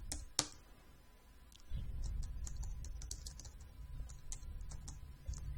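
Fingers type on a computer keyboard in a quiet office, producing quick irregular clicks and taps with a few louder key strikes, close and alone without talk.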